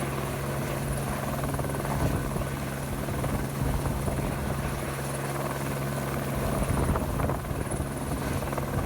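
A helicopter hovers near a mountainside during a lift, its steady rotor thump and engine whine loud and continuous without pause.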